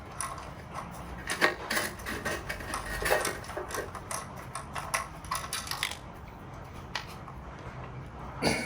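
A 7mm bolt being undone inside a Mercedes 722.6 automatic transmission during a conductor plate change, with quick close ratchet clicks and small metallic taps in uneven bursts.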